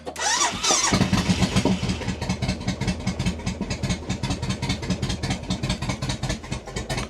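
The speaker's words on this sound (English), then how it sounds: "let's fire up the machine and do the test" A Suzuki Intruder 1500 VL motorcycle fitted with new exhaust baffles cranks briefly, then catches and settles into a loud, lumpy, rhythmic V-twin idle close to the microphone.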